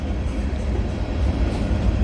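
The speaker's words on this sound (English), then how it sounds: "There's got to be like over 150 cars on this train, I think." Long freight train with around 150 cars rolling past at Bronte, a dense, continuous low rumble of wheels and cars, close and loud, with no voices.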